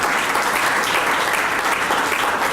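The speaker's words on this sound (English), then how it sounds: "I want to give you guys a round of applause for making that happen." A large audience bursts into sustained, dense applause at a Louisiana gathering, loud and steady throughout with no voices rising above it.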